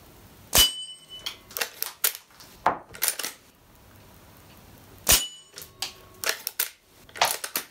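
Lever-action rifle in the Western game Red Dead Redemption 2, fired in two sharp, loud shots several seconds apart, each followed by a cluster of metallic clacks and clicks as the lever is worked.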